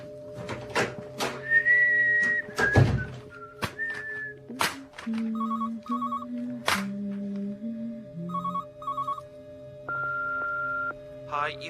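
A telephone rings in a radio drama, giving short paired electronic ring bursts that repeat after a pause, mixed with whistle-like tones, thumps and other sound effects.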